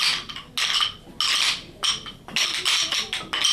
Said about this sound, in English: We can tap them slowly.